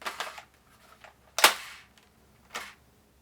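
A Nerf Rival flat magazine seats in the magwell of a Pathfinder blaster, giving a few sharp plastic clicks and snaps, close and alone, one louder snap in the middle.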